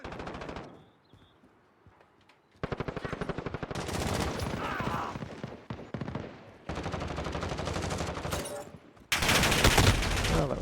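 A Call of Duty firefight brings loud bursts of automatic gunfire, heavy rattling volleys separated by brief lulls. Each return grows denser and louder.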